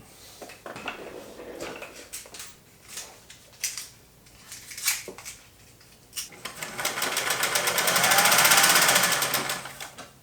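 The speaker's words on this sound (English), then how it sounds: "it definitely stitched more smoothly. It sounds a little bit less clunky" Singer 1200 sewing machine stitching, heard as scattered clunky mechanical taps that build into a steady, louder whirring run toward the end, close up with no voices.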